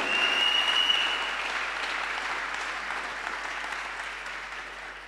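A church congregation claps loudly and continuously, a dense, close wash of applause that slowly fades over a few seconds.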